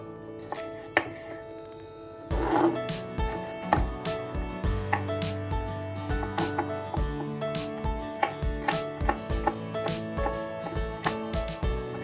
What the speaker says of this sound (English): first we start with cutting a peeled carrot into small cubes